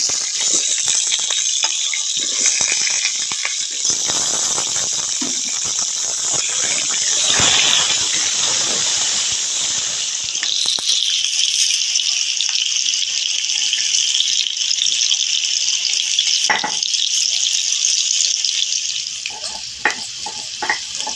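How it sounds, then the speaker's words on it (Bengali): Potatoes fry in hot oil in a wok, a steady loud hiss and crackle of sizzling running throughout with occasional scraping stirs, no voices. "আলুটা আমার ভাজা হোক"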